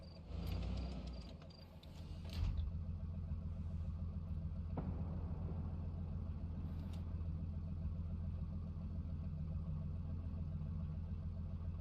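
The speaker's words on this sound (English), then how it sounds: "the engine simply running sound, also sounds terrible. Sounds like a VW Polo, not like a tank" A tank engine idling in a video game, sounding like a steady, droning low rumble that runs continuously throughout, with a slight rise in revs early on.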